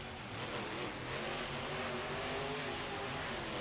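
Racing trucks at a staged start line, their engines revving in a steady, dense roar that sounds fairly distant and faint, with no talk over it.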